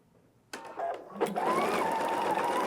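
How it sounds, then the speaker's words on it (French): A sewing machine runs a fast seam while hemming around an invisible zipper, starting with a few short bursts and then settling into a steady, loud, continuous whir. "Fait que je vais me faire une ligne à la couture"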